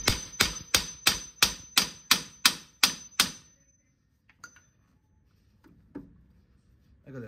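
A hammer taps a loose part of a car's suspension about nine times in a quick, even rhythm, close and loud, then stops, leaving faint scattered knocks.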